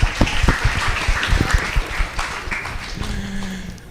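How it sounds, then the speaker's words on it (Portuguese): An audience at a church event claps for a pastor, with scattered, uneven claps that rise and thin out, and a faint voice appears near the end. "Um aplauso, né, para o pastor?"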